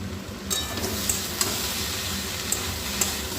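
Cauliflower and potato curry cooked with little oil stirred in a pan: soft continuous sizzle with several sharp spoon clinks against the pan at irregular intervals.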